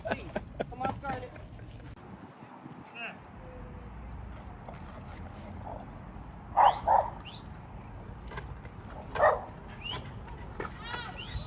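A dog gives a few short barks and yips outdoors, a couple of close bursts in the middle and another a little later, heard under ongoing talk and background noise.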